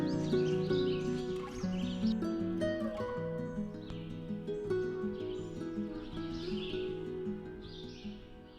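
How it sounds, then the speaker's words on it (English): Birds sing in a forest on a hiking trail in Michaux State Forest, chirping and calling intermittently over a steady, low tonal background. "You can hear the birds singing."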